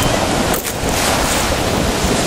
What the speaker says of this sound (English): And look at those, like, waves.